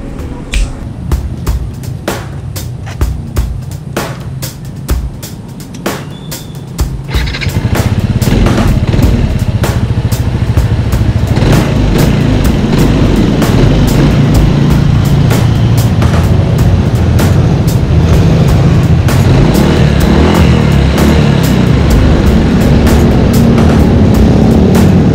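A noisy Yamaha NMAX scooter engine, idling with ticking clatter at first, then revving up to a loud, steady, rough drone that holds for the rest of the stretch, close to the listener and without talk.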